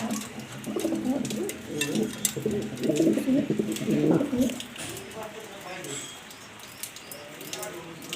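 Pigeons coo softly close by, including a black female exhibition pigeon kept in a loft; the low, rolling coos run in overlapping bursts through most of the stretch, with some rustling and a faint voice at times.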